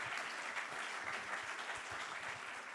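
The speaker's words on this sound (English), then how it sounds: "Can we have a round of applause for our panel, ladies and gentlemen" Conference audience applauding a panel discussion on Europe's electricity market, a steady wash of many hands clapping together, fairly faint and even throughout with no talk over it.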